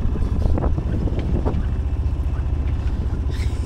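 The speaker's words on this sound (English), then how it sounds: "I'm doing a motor sailing and stuff." Steady low drone of a sailboat's engine while motor sailing at sea with the mainsail up, a continuous rumble mixed with wind buffeting the microphone and faint water wash.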